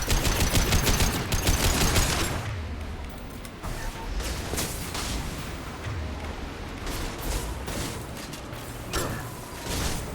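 Rapid mechanical gunfire from a big gun in Mass Effect 2 rattles loudly at first, then continues in clattering, ratcheting bursts with metallic clicks and scattered shots.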